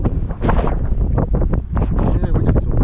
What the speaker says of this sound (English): Yeah, we got some wind today.